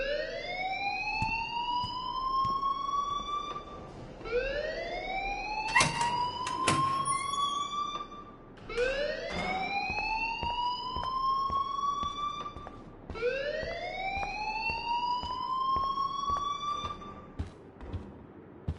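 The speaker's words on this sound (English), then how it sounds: "please turn off that alarm since that's your job" A wailing alarm sounds in the video game Life is Strange, four long rising sweeps repeating evenly, loud and steady, with faint clicks underneath.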